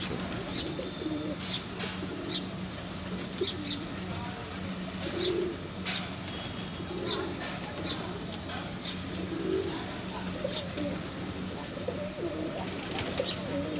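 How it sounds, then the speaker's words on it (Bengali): Pigeons, including a small white one, coo softly at a moderate distance, with scattered chirps and occasional wing flutters over a steady low background hum. "এটা নতুন পায়রা, সাদা ছোট।"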